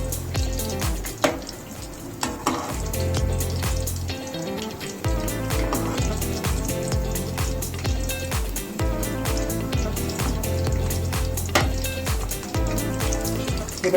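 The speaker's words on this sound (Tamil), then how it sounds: "ஃபைவ் மினிட்ஸ் ஃப்ரை பண்ணிக்கோங்க. ஒரு சைடு வந்துருச்சு, ஒரு சைடு திருப்பி போட்டுக்கோங்க." Paneer cubes fry in oil in a pan for a homemade chilli paneer, giving a steady bubbling sizzle with crackly pops that runs throughout, close and fairly loud.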